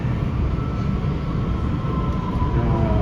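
Inside a running metro train in China, a loud, steady low rumble and rail roar fills the car continuously, with no clear talking.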